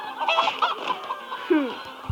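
Chickens cluck and squawk in the Minecraft Story Mode video game, a quick run of close, busy bird calls with a sharper rising squawk near the end and no talk over it.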